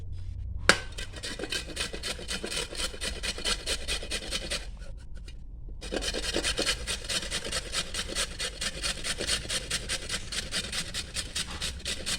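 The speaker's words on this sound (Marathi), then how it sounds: "आता आपण गाजर खिसून घेऊया" Carrots are scraped across a hand grater for a sweet carrot halwa, making a steady, close rasping rhythm of rubbing strokes with one short pause.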